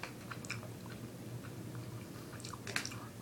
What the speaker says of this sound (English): that amount of chewing was kind of perfect for that mouthful of bear